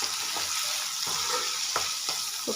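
Chicken frying in a pan crackles and sizzles steadily up close, with a few louder stirring scrapes breaking through the hiss; no one speaks.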